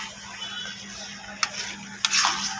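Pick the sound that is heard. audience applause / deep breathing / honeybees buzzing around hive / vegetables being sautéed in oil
vegetables being sautéed in oil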